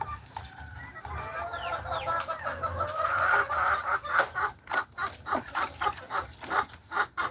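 Australorp chickens clucking nearby, a run of soft, irregular clucks and murmurs that builds into quicker, louder rhythmic calls, with no talk.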